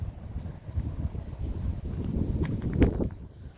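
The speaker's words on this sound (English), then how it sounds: "Rake's blown over with the wind." Wind gusting through a back garden full of daylilies and hostas, strong enough to knock over a rake and a flower pot; a steady low rumble of buffeting against the microphone, swelling louder near the end, with no talk.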